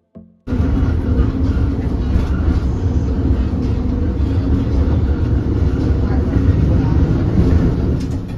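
Antique trolley on the Ashmont-Mattapan High Speed Line rumbling steadily along the track, a loud continuous rolling roar from start to finish after a brief opening knock.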